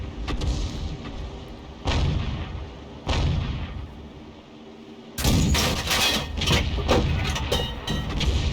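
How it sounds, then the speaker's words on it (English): An artillery shell from a tank video game bursts near a tank, part of a series of heavy booming blasts that recur loudly, with a dense burst of rumbling explosions toward the end. "the shell landed the other side and he didn't get a whole lot of splash"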